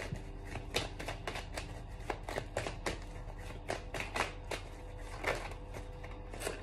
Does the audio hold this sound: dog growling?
no